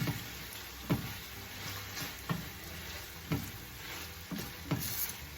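Okra and saltfish sizzle quietly in a pan under a constant hiss, with about five sharp scraping strokes of a spoon stirring at roughly one-second intervals.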